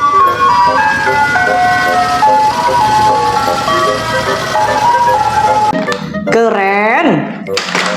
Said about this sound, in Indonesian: Yang ini ada mobil es krim.